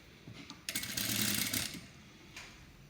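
Sewing machine stitching a high-neck blouse in a quiet room: a short burst of rapid mechanical whirring stitches lasting about a second, then it stops, with a faint tap afterward.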